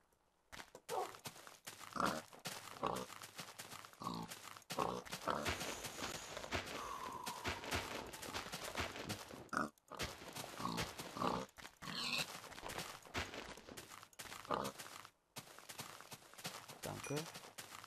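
Pig oinks from the Minecraft video game, faint and scattered beneath steady German commentary, with footstep-like clicks and game sounds throughout.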